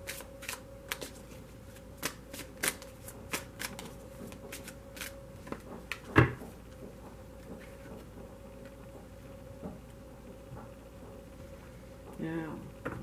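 Tarot cards being shuffled and handled, light papery riffles and taps with one sharper snap midway, close but soft, with a voice speaking in the background.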